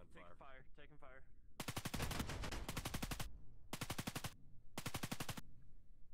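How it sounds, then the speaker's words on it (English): Automatic gunfire in the VRChat military simulation game rattles out in several loud rapid bursts, each a second or so long, following a brief stretch of voice. "Gunfire."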